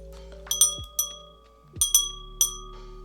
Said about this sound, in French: ça fait le vrai bruit d'un carillon